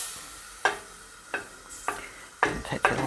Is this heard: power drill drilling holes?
no